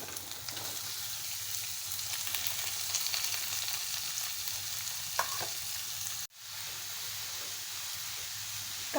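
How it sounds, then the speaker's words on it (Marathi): Onion frying in a pan for Maharashtrian baingan bharta, a steady, fairly loud hiss and crackle of hot oil that cuts out briefly, then resumes just as strongly. "आता मी त्याच्यामध्ये मी आता पॅनमध्ये कांदा घालते"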